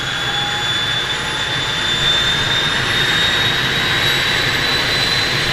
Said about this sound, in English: they're warming up a Twin Otter here